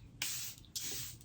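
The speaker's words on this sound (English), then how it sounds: "I like to spray this before I press the foundation in with my sponge" Two quick, close pumps of a Milani Make It Last setting spray, each a short bright hiss with a brief gap between them.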